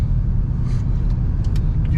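BMW 335i engine pulling hard under heavy acceleration, a close, steady deep rumble that holds without pause for two seconds, with no voices.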